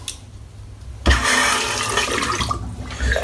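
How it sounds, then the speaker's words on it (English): Water running to rinse a safety razor after a head shave, a steady rushing splash starting abruptly and continuing loud and close for a couple of seconds before easing off. "I'm just going to give it a bit of a rinse."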